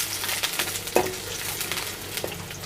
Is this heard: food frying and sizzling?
yes